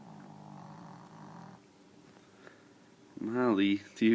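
A deaf dog sleeps and snores: a soft low rasping breath for the first second and a half, a quiet pause, then a louder voiced snorting exhale near the end, close by.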